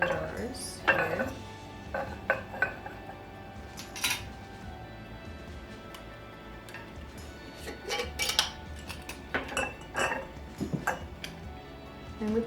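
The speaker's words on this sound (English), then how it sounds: "these are my mason jars here" Glass mason jars for overnight oats clink and knock against each other and a counter in scattered bursts, close and fairly loud, with quieter handling between.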